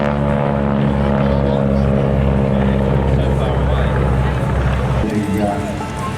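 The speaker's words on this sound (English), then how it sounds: "Let's see if we can hear the noise of the round engine over the sound of the..." Harvard trainer aircraft with radial engine flying at an air show, a loud sustained propeller drone that holds steady then shifts in pitch near the end, heard alone without talk.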